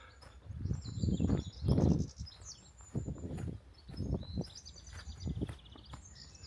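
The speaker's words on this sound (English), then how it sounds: "You can hear a lot of birds." Several birds chirp and tweet at a distance at an abandoned amusement park by the beach in Scarborough's North Bay, while low, rumbling gusts or handling noise swell and fade underneath.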